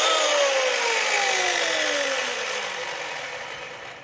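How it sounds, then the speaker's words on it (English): An electric chainsaw whines at high pitch, motor running steadily and loud up close, the tone slowly dropping as it winds down. "To start this chainsaw every time."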